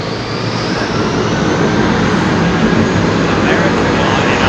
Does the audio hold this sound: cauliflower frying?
no